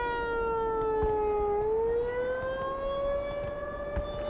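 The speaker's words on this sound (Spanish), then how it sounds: "a sirena está me rayando" A steady siren wails without a break in the Black Mesa video game, its pitch dipping slightly and then rising again over rumbling background noise and occasional soft thuds.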